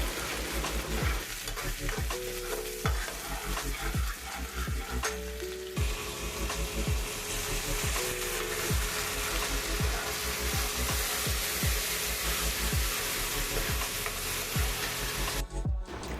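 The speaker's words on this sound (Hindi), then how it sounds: "तो मैं दाल में तड़का लगा रही हूँ।" Hot oil sizzles steadily with spices crackling as lentils are tempered, while a spoon repeatedly scrapes and stirs the pot in irregular strokes throughout.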